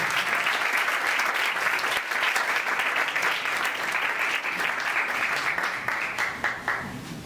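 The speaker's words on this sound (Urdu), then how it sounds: "ہم خدا کے کلام کو اور خدا کے خادم کو زوردار تالیوں میں ویلکم کریں گے" A church congregation at an Urdu/Hindi sermon breaks into sustained, loud applause to welcome Pastor Jerry George, dense and steady throughout before thinning slightly near the end.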